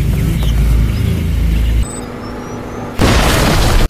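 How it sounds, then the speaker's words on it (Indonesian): A remote bomb goes off inside a room as a loud, deep boom with a heavy rumbling roar. The noise drops away sharply, then a second harsh, noisy burst erupts and cuts off abruptly. "menghabisi Jens dan Kroger menggunakan bom jarak jauh yang ada di dalam ruangan"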